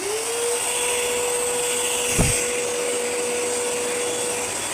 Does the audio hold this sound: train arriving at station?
no